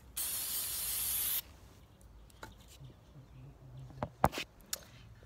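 A spray paint can hisses in one steady burst of a second or so onto a bottle, followed by faint clicks and light handling noises.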